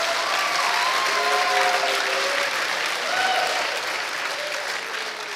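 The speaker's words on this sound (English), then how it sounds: "Let's give a round of applause for Sean Pressgraves here" Sustained audience applause at a church service fills the space, a dense, even wash of clapping lasting several seconds with faint voices mixed in.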